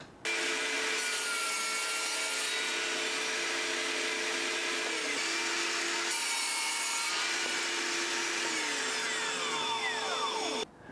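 Wooden side pieces for a toilet roll holder being cut with a power saw, a continuous loud whine with shifting tones and brief load changes, nearby and without voices.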